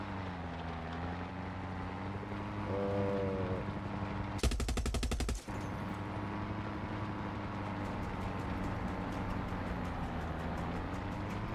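Automatic gunfire from the video game Far Cry 6: a single dense burst of rapid shots lasting about a second, loud against a steady droning engine hum, followed by faint rapid ticking later on.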